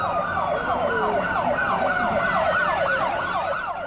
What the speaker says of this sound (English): With sirens blaring and lights flashing, dozens of police cruisers raced through the downtown core.